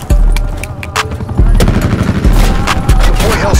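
Attack helicopter gunfire in Black Ops 4, loud rapid bursts of automatic fire with booming impacts, a brief pause and then sustained fusillades, with radio-style voice chatter mixed in.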